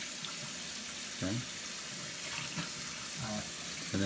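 Water runs steadily from a bathroom sink tap after tooth brushing, a continuous close splashing hiss under brief spoken instructions.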